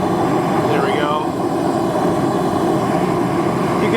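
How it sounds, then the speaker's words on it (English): A torch jet roars steadily onto steel being heated for knife making, a loud continuous blasting hiss throughout with no break. "You can see that jet is blasting right on that steel"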